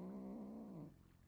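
A cat meows in the cozy video game Lake: one drawn-out, wavering meow, close and clear, that fades away at the end with no speech over it.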